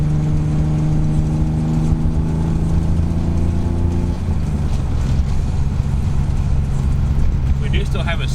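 Car with a BMW M20 engine, a low-mileage motor with a slight exhaust leak at the header, running with a loud, steady droning tone that shifts pitch midway, heavy wind buffeting and a voice talking over it.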